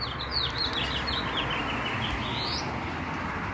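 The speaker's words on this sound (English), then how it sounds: "The birds are singing outside." Birds in a tree outdoors sing in a series of bright, repeated chirping notes over a steady broadband background hiss, moderately distant.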